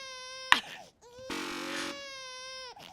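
Baby crying in The Stanley Parable video game: loud, close wails that break off and start again over a few seconds, with a sharp sob in the middle.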